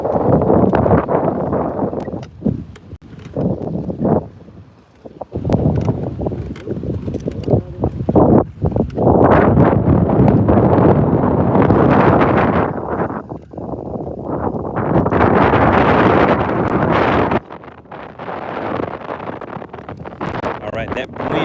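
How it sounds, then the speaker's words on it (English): Strong wind buffets the microphone outdoors on a bass fishing outing, roaring in loud, uneven gusts with brief lulls, while someone talks over much of it. "that wind is going to be loud, guys"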